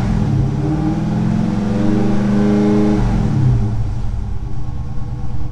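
A car engine revs up during a battery charging system test, its pitch rising and holding in a loud, close drone before dropping back toward idle.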